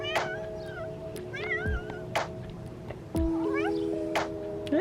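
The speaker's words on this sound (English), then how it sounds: "Kitty cat." A cat meows several times up close, with high wavering cries between sharp bursts of noise and a low hum in the background.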